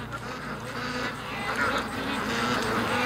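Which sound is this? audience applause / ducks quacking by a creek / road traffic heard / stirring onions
ducks quacking by a creek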